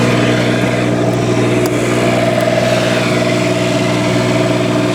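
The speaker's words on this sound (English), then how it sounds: "Onan quiet diesel generator with just a little bit over 119 hours." An Onan quiet diesel generator on a 2008 Tiffin Allegro Bay class A diesel motorhome runs at a steady idle, a loud, constant droning hum with a low mechanical tone and no change in pitch.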